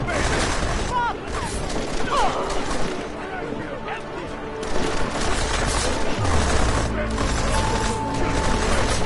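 Bursts of rapid automatic gunfire and clattering weapon mechanisms in the Deus Ex video game, loud and dense, with shouted voices over the shooting.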